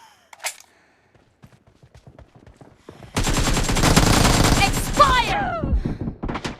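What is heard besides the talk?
air gun gunfire in video game PUBG Mobile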